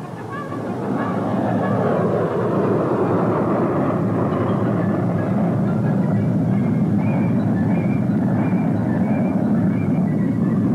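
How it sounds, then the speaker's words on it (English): Jet engines of CF-100 and Sabre chase planes roar steadily as the aircraft take off, a loud broad rushing drone that swells in the first seconds and then holds, with no talk over it. "CF-100 and Sabre chase planes take off for visual and photographic observation of the flight"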